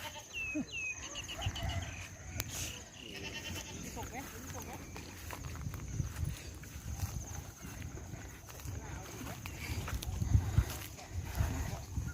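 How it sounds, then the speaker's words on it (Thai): Goats bleat intermittently outdoors, wavering cries rising above rustling and low ambient noise, while people talk nearby. "แพะมันร้อง"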